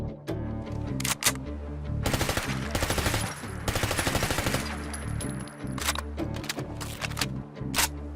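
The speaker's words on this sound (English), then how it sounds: "Gotta love that aggressive reload" Rapid automatic bursts from an MP5 submachine gun in a Fallout 4 weapon mod, loud rattling volleys broken by short gaps and mechanical clicks of a reload.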